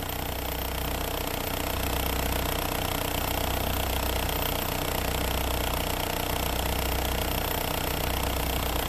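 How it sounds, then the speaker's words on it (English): A car engine idles with a steady, droning hum and a dry-sounding pump whining underneath, running continuously and evenly at moderate distance. "That thing is making noise. It sounds like a dry pump is what it sounds like."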